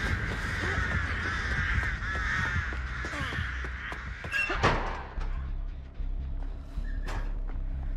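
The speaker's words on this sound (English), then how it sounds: "So many crows." Crows caw repeatedly in a Dead by Daylight match, a steady flock of harsh calls layered over game ambience with a few thuds, close and fairly loud, with no talking.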